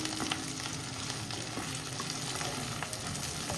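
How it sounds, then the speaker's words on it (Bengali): Spices fry and get stirred in a pan, giving a continuous quiet crackling sizzle with faint scraping throughout and no voices. "মশলার গন্ধ ছাড়লো, তার মানে এটা কষানো হয়ে গেছে।"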